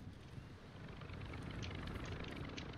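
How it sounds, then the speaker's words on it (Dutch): A helicopter flies over in the shooter video game Warzone 2.0, a faint broad rushing rumble with wind-like noise that swells slightly, no talk. "komt een helikopter overvliegen"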